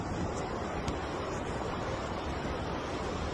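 Steady ocean surf off the coast where a 4 km crude oil trunk line was laid, heard as a continuous broadband wash of breaking waves with wind buffeting the microphone, loud and unbroken throughout.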